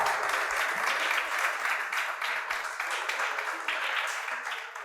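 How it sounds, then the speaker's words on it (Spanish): A church congregation applauds the priest, a dense, steady wash of many hands clapping at close range that holds strongly for about five seconds before easing slightly at the end. "Vamos a dar un aplauso al Padre, un aplauso que lo sienta."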